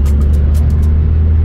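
A new Chinese-made car passes along a street in Maracay, Venezuela, a loud, low, steady engine rumble with road noise and a few brief hissy bursts, heard close with no talking.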